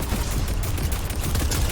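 Rapid gunfire from the video game Fortnite, a dense, continuous burst of overlapping shots that stays loud and steady across the whole moment with no talking.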